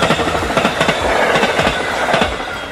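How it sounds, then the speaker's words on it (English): A loud train clatters by up close, wheels clicking in a rapid rhythm over a constant rumbling roar. "This is a train."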